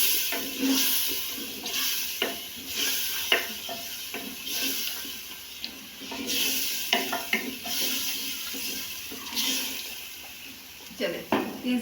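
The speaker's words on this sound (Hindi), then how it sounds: "अब तकरीबन 3 से 4 मिनट में आलू भूनूंगी और फ्रेश भी" Potatoes fry in masala in a pan, with a soft steady sizzle under repeated stirring and scraping, occasional sharp clinks of utensil on pot, and some voice in the background.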